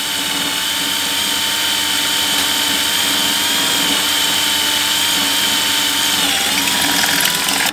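A power drill bores steadily through a fixture while an Allison 1000 transmission in a Duramax is rebuilt, a loud continuous high whine with a slight pitch dip near the end, close up and alone.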